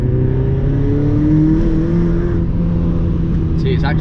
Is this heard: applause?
no